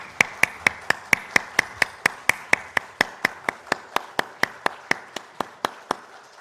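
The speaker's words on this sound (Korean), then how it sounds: "하나님께 영광의 박수 드리겠습니다." A congregation claps in unison at a worship service, about twenty-five sharp, evenly spaced claps in a steady rhythm, loud and close, with no talking.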